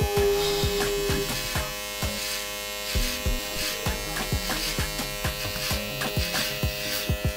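An electric hair clipper buzzing steadily during a haircut, with a close continuous motor drone and rhythmic thumps and taps as it moves through the hair.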